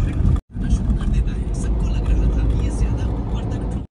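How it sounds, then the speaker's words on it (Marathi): Inside a moving car stuck in heavy city traffic, a loud continuous engine and road rumble fills the cabin, cut by one brief gap early on. "तर आता मला ट्रॅफिक लागलेलं आहे भरपूर."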